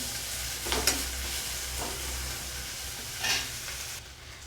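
Onions sizzle and crackle steadily in a pan, with a few brief scraping stirs, heard alone without talk.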